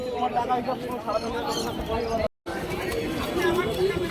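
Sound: pigeon cooing

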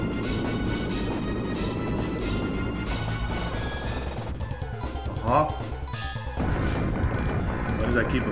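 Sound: bombs exploding in the video game Contra 3: The Alien Wars

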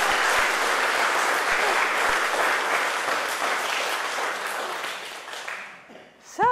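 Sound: audience applause

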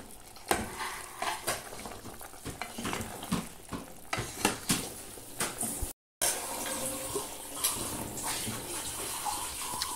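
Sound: water pouring into cooking pot

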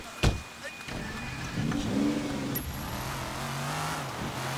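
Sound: car engine revving in Sleeping Dogs video game

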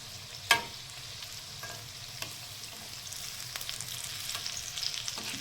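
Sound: sautéing suran (elephant foot yam) in a pan

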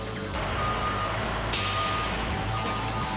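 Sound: heavy-duty wrecker tow truck reversing

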